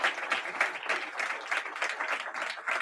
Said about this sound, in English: You give them a round of applause for that.